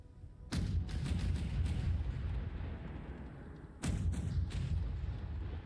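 In the video game Elements of Survival, a distant ship fires its guns: two heavy, booming shots with rumbling tails, each followed by a few softer echoing thuds.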